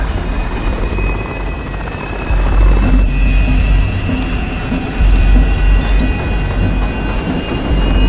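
A helicopter climbs after dropping cargo, its rotor thumping and turbine whining loudly and steadily, with the engine note swelling as it gains height.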